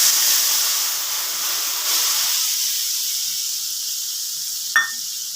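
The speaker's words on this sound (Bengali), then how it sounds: "এবার আমার ভেজিয়ে রাখা মশলাটা এটা দিয়ে দিচ্ছি" Soaked spice paste hitting hot oil for a katla fish curry, giving a steady, fairly loud hiss that slowly fades and eases off, with one brief sharp crackle near the end.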